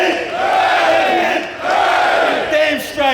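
Crowd at a May Day rally shouting and cheering in loud swelling bursts, a brief dip between them, then a final surge.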